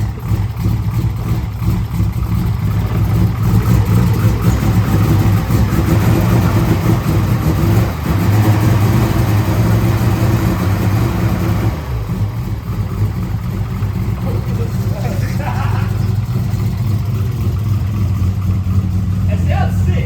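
Engine of an R33 drift car running after a DIY repair, a steady close idle with a slight rise in revs near the middle, people talking over it throughout.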